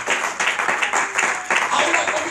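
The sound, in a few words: church congregation applauding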